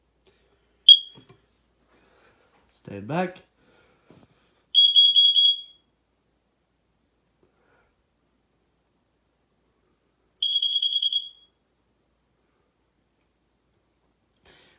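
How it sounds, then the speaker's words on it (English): A smoke alarm under test gives two loud, shrill electronic beeps about six seconds apart, each lasting roughly a second, with a short sharp click near the start and a brief spoken word before the first beep. "this smoke alarm is going to be test loud"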